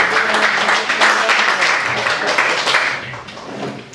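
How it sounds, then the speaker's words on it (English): Audience clapping at a concert sound check, a full, continuous burst of applause with some voices mixed in, close and fairly loud, thinning slightly toward the end. "Hands together, please. Clapping now."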